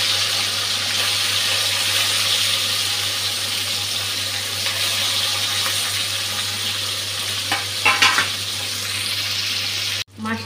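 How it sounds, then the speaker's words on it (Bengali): Katla fish pieces rubbed with salt and turmeric fry in hot oil with a continuous close sizzle, a few louder spitting crackles near the end, then an abrupt cut. "তেলটা গরম হয়ে গেছে, এখন নুন হলুদ মেখে রাখা মাছগুলা দিয়ে দিচ্ছি।"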